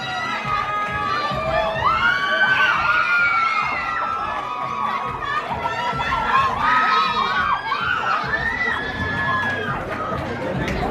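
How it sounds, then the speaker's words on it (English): A crowd at a Mister Asia pageant cheers, whoops and shouts for the top four contestants, a loud sustained roar of many voices with clapping underneath. "Give a round of applause to top 4, please."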